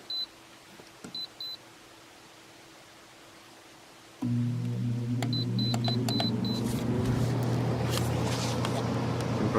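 An LG air conditioner gives a few electronic beeps, then its fan starts abruptly and settles into a steady, fairly loud whooshing hum as more beeps sound.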